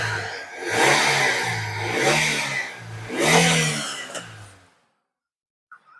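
Engine of a used car at a second-hand car sale revved three times in rising, falling surges, loud and close, then cut to near silence.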